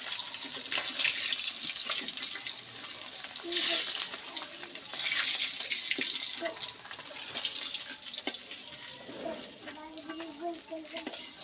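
Pieces of rohu fish frying in oil until reddened on both sides, a dense continuous sizzle close by with occasional clinks and shifts of the pan, faint running water mixed in, no talk.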